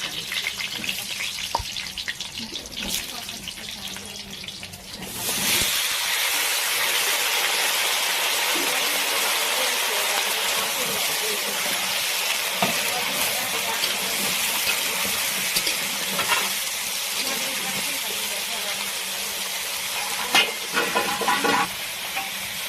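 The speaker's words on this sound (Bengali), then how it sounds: "আলুটা ভেজে নিতে হবে, অনেকটা তেল তো, তাই অল্প অল্প করে" Potatoes fry in a generous amount of hot oil in a home kitchen, a few at a time. Quiet stirring and clatter open, then a loud, steady, broad sizzle takes over and runs on alone.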